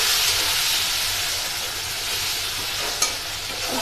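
Sliced potatoes frying in oil with nigella seeds and slit green chillies, a loud, even, hissing sizzle with one brief clink near the end, no talk.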